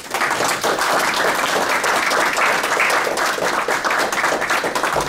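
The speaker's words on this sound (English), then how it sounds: "I want to sort of give the poets and ML a wonderful round of applause for their contribution today." A room audience at a humanities center talk gives poets a round of applause: dense, even clapping from many hands, sustained at a steady level throughout, with no speech over it.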